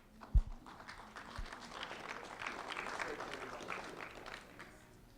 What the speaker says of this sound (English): a round of applause for Audrey Acosta